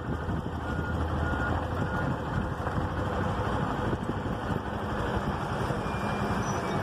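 Heavy tractor working on earthmoving and grading at a new housing subdivision, a steady loud rumble of engine and wind noise throughout, with faint intermittent tonal beeps that may be a reversing alarm.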